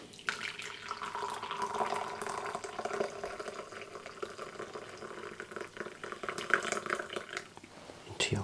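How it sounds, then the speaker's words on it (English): Tea being poured from a pot into a cup in a quiet ASMR setting, a soft, close trickle and splash with a faint steady tone, gentle and unhurried. "once you're ready and you're happy, pour your tea."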